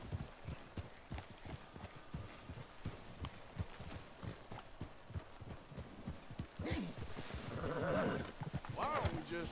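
Horse hoofbeats clip-clopping at a steady ride in the open-world western game Red Dead Redemption 2, close and rhythmic throughout, with a brief whinny and game sounds swelling near the end.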